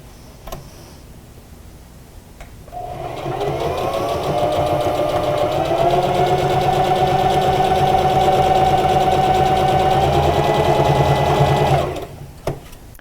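A sewing machine stitches pieces of a homemade fabric face mask, its steady, loud mechanical whir running continuously for about nine seconds before stopping, with no voices.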